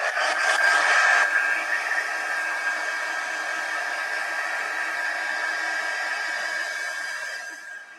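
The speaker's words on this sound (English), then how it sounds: "So let's try the heat gun." A heat gun blows steadily for several seconds in a workshop setting, a constant airy whoosh with a slight whine that starts a little louder, then holds level and fades off near the end, no voices.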